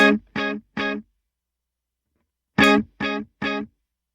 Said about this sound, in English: It will take your signal, wait, and then repeat it, like so.